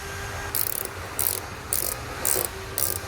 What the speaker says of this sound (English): we're just going to replace the 3 screws that we removed earlier